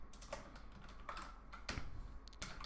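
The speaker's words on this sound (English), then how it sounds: "So let's say we type print" Quick keystrokes clatter on a computer keyboard as a line of Python code is typed, a short run of close, crisp clicks in an otherwise quiet room.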